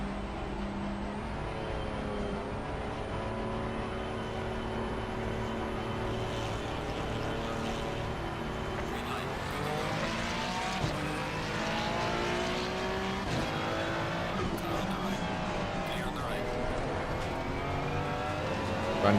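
Porsche race car engine in a racing video game at Bathurst, a loud sustained engine roar with rising and falling revs and gear changes throughout, no talking.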